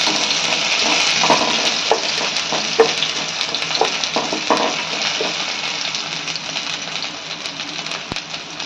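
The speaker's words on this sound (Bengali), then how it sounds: "তো তেল গরম হয়ে গেছে, এবার পেঁয়াজ কুচিগুলো দিয়ে দিলাম।" Chopped onion frying in hot mustard oil for a chana dal: a busy sizzle with clattering stirs and knocks early on, settling into a steadier, softer crackle.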